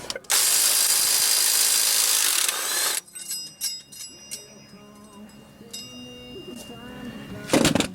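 Big impact wrench spinning loud and continuous on flexplate bolts of a third-generation Toyota 4Runner in a garage, cutting off after about three seconds, followed by clinks, ratcheting and tool handling noises.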